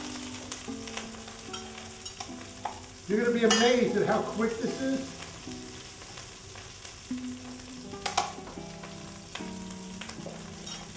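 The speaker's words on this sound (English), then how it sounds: "You can hear that sizzling up right now." Broccoli rabe sizzles steadily in a hot frying pan while someone talks over it, with a louder burst of frying and stirring partway through before it settles back to a constant crackle.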